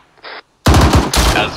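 A .50 caliber machine gun in an Arma 3 battle fires a loud, close burst of rapid shots after a brief faint blip.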